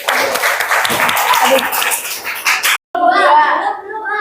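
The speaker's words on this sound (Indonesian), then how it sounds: "Nah, berikan aplaus untuk kelompok 1." A classroom audience applauds group 1 after a presentation, clapping briefly and fairly loudly, mixed with talk, with a short pause and then more voices and clapping.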